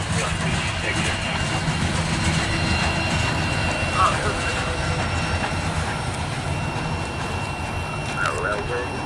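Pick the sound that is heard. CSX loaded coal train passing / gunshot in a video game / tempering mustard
CSX loaded coal train passing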